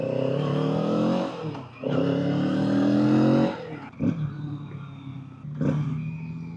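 A 2024 Kawasaki Z650RS retro motorcycle being ridden, its engine revving up loudly in surges with throttle roll-offs and gear changes in between, exhaust note close and prominent.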